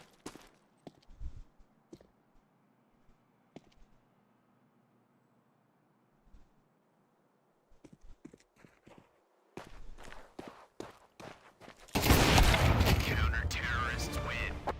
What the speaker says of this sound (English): drop down some sprays of bullets inside the smoke, hoping some of the shots would connect onto him